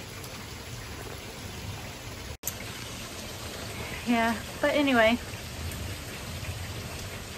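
Steady rain pours down in a constant broadband hiss, with a brief voice speaking over it partway through.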